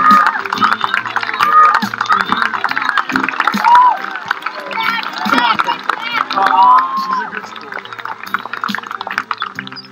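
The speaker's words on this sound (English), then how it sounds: "it's probably going to take a round of applause to get her up here" A lively crowd claps and cheers loudly, with whoops and excited voices rising and falling throughout the burst of applause.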